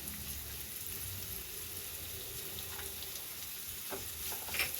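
Garlic, ginger, green chilli and onion sautéing in a pan for paneer masala, a steady low sizzle and hiss with scattered soft stirring clicks, continuous and fairly quiet.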